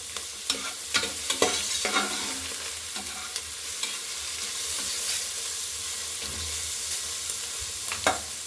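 Vegetables for pulao fry in a pan while a spoon stirs and scrapes them, several clacks near the start and end over a continuous hiss of frying, close up with no voices.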